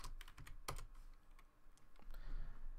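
Keystrokes on a computer keyboard while entering Java code, a quick run of close, crisp clicks with brief pauses, one louder tap standing out, no voices over them.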